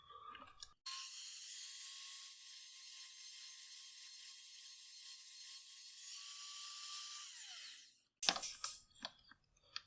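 A rotary grinding tool works on a 3D printed plastic chest plate piece from a clone commando armor kit, a steady high-pitched whine held for about seven seconds that winds down, followed by scraping handling noises.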